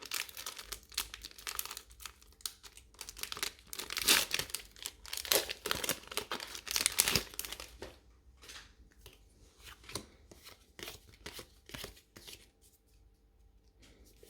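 Crinkly foil wrapper of a Pokémon card booster pack being torn and crumpled open up close, a long series of sharp rustles and crackles, busier at first and then sparser.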